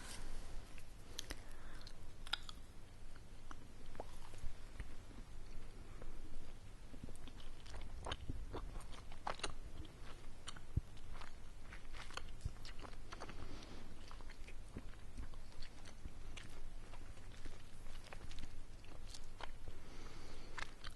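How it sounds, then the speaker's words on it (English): Chewing gum heard close up in a soft-spoken ASMR setting, with continuous moist smacking, clicking and squishing mouth sounds at an even pace for the whole stretch, quiet and without speech. "I have not practiced talking while chewing gum, so I hope it doesn't sound gross"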